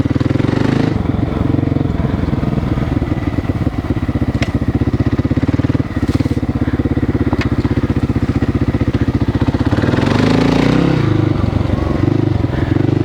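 A motorcycle engine runs loud and close with a rough, chattering idle-like pulse, briefly revving and shifting with a clunk partway through before pulling on; a voice speaks faintly over it.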